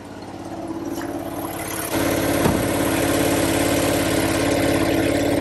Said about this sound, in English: we let the engine run for about 5 minutes to get the oil circulating